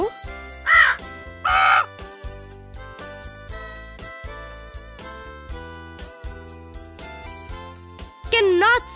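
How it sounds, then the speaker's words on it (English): A crow caws in loud, harsh bursts, two early and one near the end, over light plinking background music with some voices. "Crow."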